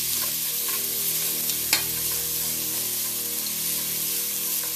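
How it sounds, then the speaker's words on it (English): Red onion frying in hot oil, a steady close sizzle and hiss with a faint stir or clatter partway through, no voices. "gonna toss this in the oil."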